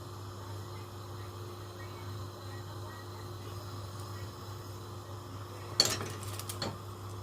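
Naan flipped over in a pan with tongs, a single sharp metallic clink and scrape near the end after quiet kitchen hum, followed by a smaller clatter.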